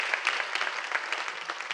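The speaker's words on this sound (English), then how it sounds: "Let's hear another round of applause for all the folks who participated in making it in this video." Audience applause in a hall, a dense, even patter of many hands clapping at moderate distance, brief and steady throughout with no voices over it.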